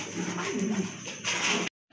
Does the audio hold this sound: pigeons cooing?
yes